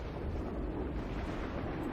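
A dense, steady rumbling explosion roar fills a fantasy battle in Total War: Warhammer 2. The noise holds loud and constant throughout, with no talk over it.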